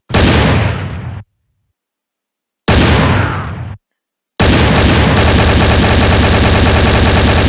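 A regular gun in Garry's Mod fires two loud, close bursts, each about a second long and separated by silence. A third sustained stream of rapid automatic fire then runs to the end.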